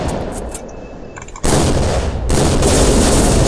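Loud, dense gunfire and explosive bursts from the PC game The Fall: Last Days of Gaia, a continuous heavy barrage that swells sharply midway and stays intense to the end.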